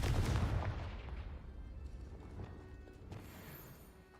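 An explosive Confringo spell is cast in the Hogwarts Legacy game, a sharp blast that booms at the start and then trails off in a fading rumble with faint clatter, with no voices.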